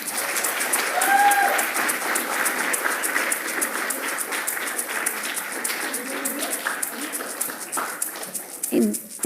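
Warm, sustained applause from an awards-ceremony audience honoring a speaker, steady clapping at moderate loudness with a few voices and a whistle-like tone mixed in, tapering slightly toward the close.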